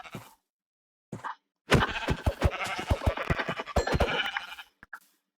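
Sheep in the Minecraft video game bleat several times in quick, wavering calls that are close and clear, with a couple of short bleats before a longer run of them.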